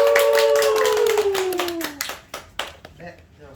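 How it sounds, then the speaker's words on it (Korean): A group claps to welcome a staff member, a burst of hand claps that thins into scattered taps, with a voice over the start of it. "우리 박수로 간사님을 환영하겠습니다."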